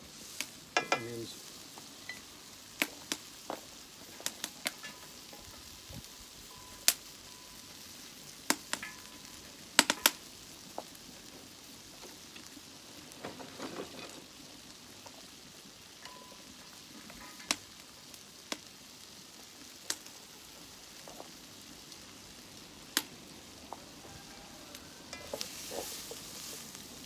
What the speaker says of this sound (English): I'm just cooking the sausage off